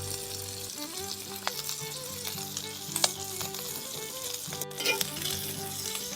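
Pork cracklings sizzle steadily in a frying pan, a dense continuous fry noise with occasional pops and stirring clinks, close and fairly quiet throughout.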